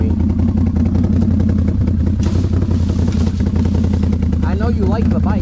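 A motorbike engine runs close by with a steady, loud, rumbling drone that holds through the whole stretch, its low throb unbroken, while a person talks over it toward the end.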